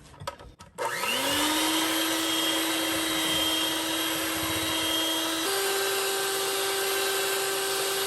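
Electric hand mixer whipping 7-minute frosting with cream of tartar for a strawberry cake, a loud steady motor whine running continuously, starting after a few clicks and shifting pitch once midway, with no talk over it.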